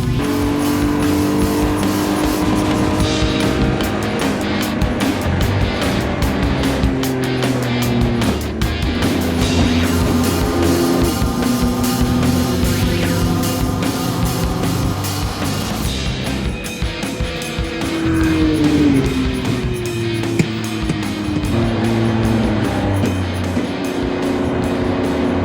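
A race car laps Thunderhill circuit, its engine roaring loud and close from inside and rising and falling through gear changes as the worn tires lose grip, with no talk.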